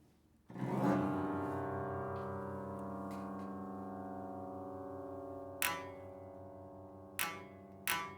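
A glissando across upright piano strings swells into a long, ringing sustained tone that slowly decays, with a few sharp bright plucks or taps near the end.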